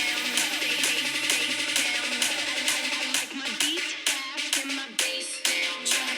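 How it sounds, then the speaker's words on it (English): Guaracha remix of a song, a dense electronic dance track with punchy percussive hits and bass, steady and fairly quiet throughout. "and it's a Guaracha remix, so it sounds like this."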